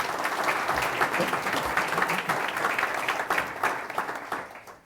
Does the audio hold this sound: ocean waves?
no